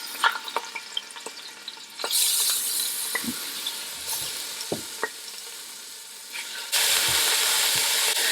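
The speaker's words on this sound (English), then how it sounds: "we're just going to brown the meat on all sides" Meat sizzling and crackling in hot olive oil while browning, a steady loud frying hiss with occasional pops and bursts of stronger sizzle as pieces hit the pan.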